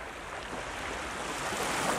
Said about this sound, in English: The ocean waves produce a rhythmic,